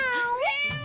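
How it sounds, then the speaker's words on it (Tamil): A cat gives a single clear meow, a rising then falling tonal cry lasting under a second, close and fairly loud with no talk over it. "மியாவா?"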